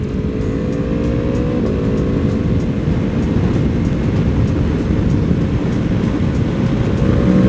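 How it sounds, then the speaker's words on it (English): A 2022 BMW M1000RR superbike engine, loud and close, holding a strong droning roar with rising pitch as the throttle is twisted, a brief dip and step near the start, then climbing steadily again toward the end; no voices. "give it a little throttle twist. See what you think of it."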